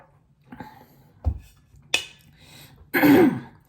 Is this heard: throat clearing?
yes